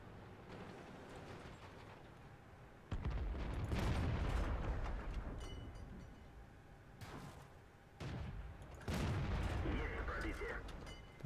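Tank cannons boom in the World of Tanks video game, a few heavy blasts with long rumbling decay over steady game background noise, loud and close.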